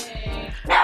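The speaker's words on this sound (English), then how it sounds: "Shoot, that's my dog and my dogs." A small Chihuahua in a home kitchen gives a quick run of close, sharp yaps, finishing with one louder, higher yip.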